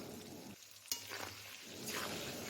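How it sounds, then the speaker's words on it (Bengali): Potatoes fry in oil with salt and turmeric over a low gas flame, a soft close sizzle with a sharp clink and faint stirring scrapes, quiet throughout. "গ্যাসের ফ্লেমটাকে লো করে আলুগুলোকে লাল লাল করে আমি ভেজে নিয়েছি"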